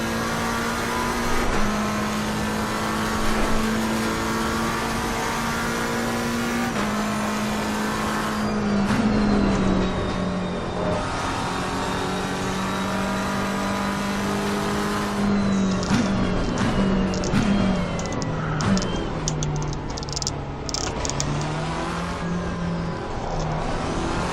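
Race car engine in the Assetto Corsa Competizione racing game, laser-scanned tracks like Suzuka, Laguna Seca and Silverstone, droning loudly and steadily with pitch rising and dropping through gear shifts and throttle changes, continuous and close.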